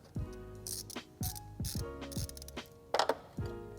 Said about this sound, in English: The filter has an 8mm hose clamp on it, and we'll just tighten it up with our 8mm ratchet.